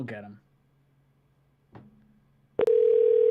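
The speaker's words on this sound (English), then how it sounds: "Oh, there we go. Phone call's going through." Outgoing telephone call ringing through on a call-in show line: a brief voice and faint click early on, then a loud, steady ring tone begins near the end and holds.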